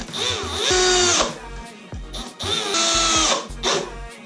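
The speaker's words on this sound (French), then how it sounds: "Et on visse." Screws driven into a homemade wooden bike rack with a power drill: two long whining bursts of the motor with short pauses and a few brief stops, close and clear.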